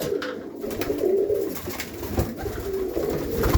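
Tippler pigeons coo softly and repeatedly inside a pigeon loft in Melbourne, with low murmuring calls overlapping against a steady background of loft noise.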